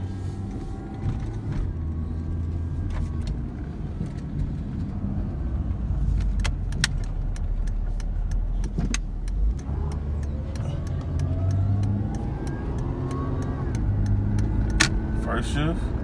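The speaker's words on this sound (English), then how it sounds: "I'm gonna show you guys that the trans does shift" A 2006 Chrysler Sebring GTC with automatic transmission drives along, its engine droning steadily low while the pitch climbs and drops through gear shifts, with faint clicks and rattles in the cabin and a person talking over it.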